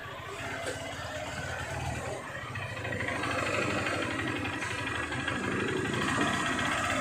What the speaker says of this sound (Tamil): சவுண்டை பார்த்தாலே உங்களுக்கு தெரியும், ஒரு மாதிரி மதன்னு ஆக்சிலேட்டர் கொடுத்தாலே அடைக்கிது